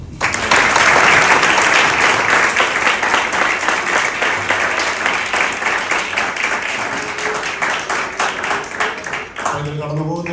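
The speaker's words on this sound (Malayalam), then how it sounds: "ഒരു നല്ല ക്ലാപ്പ്." Loud, sustained audience applause at a church event honoring tenth grade achievers, many hands clapping steadily before fading out as a voice begins speaking at the end.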